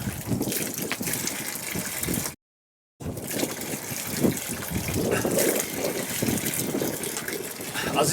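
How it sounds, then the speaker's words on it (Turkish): Mineral water spring near Sarıkamış, Kars, gushing out of the ground in a continuous loud rush of flowing water, close by, with one brief dropout. "Su çıkıyor ve şu anda biz evet güzel bir kaynak ve tatlı."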